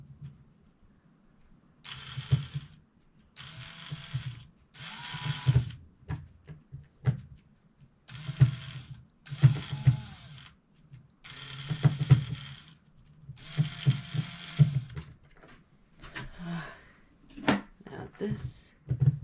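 A power driver sends a screw into a floor joist during bathroom demolition and floor preparation, with repeated short whirring bursts and low thumps spread across the stretch, and a person speaking intermittently between them.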